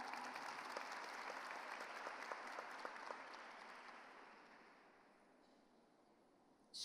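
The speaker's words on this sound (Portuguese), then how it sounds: "Vamos aplaudir de novo esse pessoal?" Applause from an audience, steady at first and then gradually dying away to near quiet.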